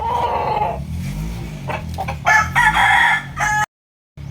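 A fighting rooster crows loudly and close, a long rising call with clucking around it, then cuts off abruptly into silence.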